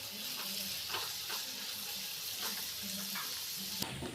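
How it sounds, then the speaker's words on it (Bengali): Mutton fat sizzling and frying in a pan with browned onions, a steady close crackle with occasional stirring scrapes, no talking. "এবারের মধ্যে চর্বিটা দিয়ে দেবো। চর্বিটা দিয়ে কিছুক্ষণ একটু ভেজে নেব।"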